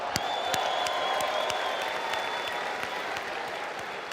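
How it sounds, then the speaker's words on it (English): Steady applause from a large crowd at a leadership event, a continuous wash of clapping with a few sharper individual claps standing out and no talking. "Give yourself a huge round of applause."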